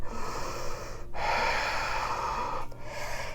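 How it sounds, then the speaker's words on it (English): A long, deep inhale and exhale during a power yoga session, airy and steady, close to the mic over a constant background hiss, with a brief break before the breath continues; no talking. "Take a deep breath."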